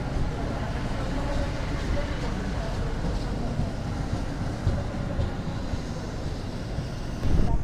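A Bengawan passenger train pulls out of Purwokerto station with a loud, steady rolling rumble that fills the whole stretch and swells near the end, with a murmur of voices beneath it.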